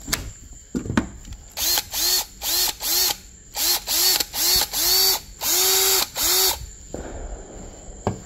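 Ryobi 18V power tool on its stock battery, fired in a series of about ten short bursts, each a loud whine spinning up and cutting off, with clicks between, up close.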